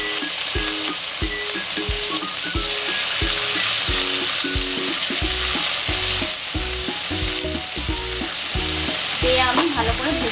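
Whole cumin, a bay leaf and whole garam masala frying in hot oil in a pan, a steady loud sizzle with repeated rhythmic scraping strokes of a spatula stirring throughout, no voices.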